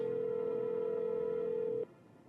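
A phone in the video game No I'm Not A Human gives a single steady, loud dial tone that runs nearly two seconds, then cuts off abruptly into quiet.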